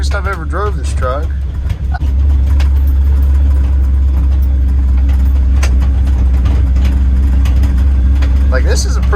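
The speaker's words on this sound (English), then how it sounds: "this is a pretty bumpy road, and it just smooth as could be other than all the rattles in here" A 1975 Chevy C30 truck drives over a bumpy road, its low engine drone steady and loud inside the cab with scattered interior rattles, and someone talks over it at the start and again near the end.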